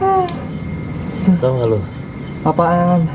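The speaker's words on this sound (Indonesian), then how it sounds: "itu bunyi kucing garong" A tomcat lets out two drawn-out, wavering meows close by, one in the middle and one near the end, while people talk in a casual conversation.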